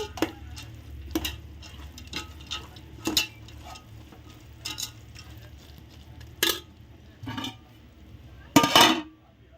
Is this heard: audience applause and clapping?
no